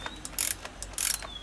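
A ratchet clicks as it torques down the valve cover bolts on a 2003 BMW 525i. The sound comes in two close bursts of quick metallic ratcheting, with fainter clicks between them.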